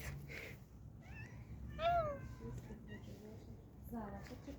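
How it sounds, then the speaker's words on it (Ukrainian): Several hungry cats meow up close, giving a few distinct rising and falling cries spread across the moment, while people talk nearby at the same time. "Які голодні коти."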